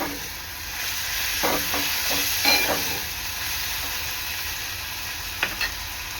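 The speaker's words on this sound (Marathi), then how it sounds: "ह्यामध्ये टाकणार आहे मी टोमॅटो आणि कांदा चांगला एकजीव करून शिजवून घेणार आहे" Tomato and chopped onion stirred and cooking in a pan for a Maharashtrian gavar bhaji, a steady sizzle broken by several spoon scrapes and clatters near the middle and again near the end.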